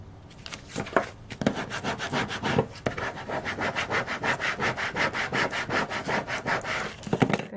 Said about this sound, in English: I'm just gonna rub it down really good